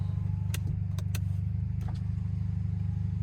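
A turbocharged Kia car engine drones at a steady low idle or cruise, close and continuous, with a few sharp clicks and knocks above it and no speech.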